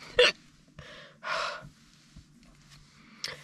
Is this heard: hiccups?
yes